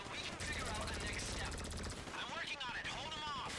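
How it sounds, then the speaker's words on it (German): Sustained automatic gunfire in GTA V, dense rattling bursts from several directions at moderate loudness, with a voice talking over the shooting. "ich werde von allen Seiten geschossen"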